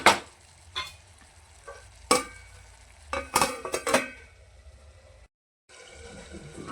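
Chicken sukka masala on a low flame is stirred with a spoon, giving several sharp scraping and clinking strokes against the pan over a quiet background sizzle, close and without talk.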